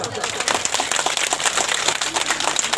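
An audience claps loudly and continuously, a dense patter of many hands with no gaps, filling the space at close range.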